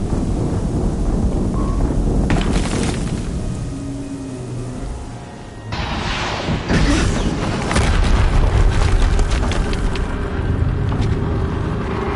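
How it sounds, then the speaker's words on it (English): Deep booming explosions rumble through a Horizon Zero Dawn game on PS5, with heavy low-end blasts and a sustained roar swelling after the midpoint, loud and close. "Another explosion."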